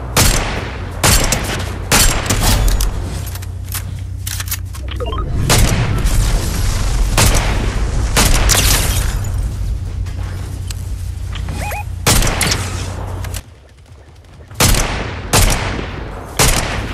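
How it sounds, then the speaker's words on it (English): Repeated bursts of video game gunfire near a bridge crack and boom in close succession, loud and dense, with a short lull near the end before more shots ring out. "There's gunfire over the bridge."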